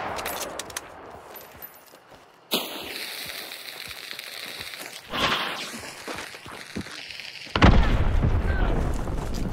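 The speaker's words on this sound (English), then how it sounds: "Okay, so we are going with explosives today." Explosions and gunfire in the video game Hunt: Showdown, with a sudden booming blast near the start and another loud burst later, followed by sustained rumbling noise. A voice talks over the game sounds.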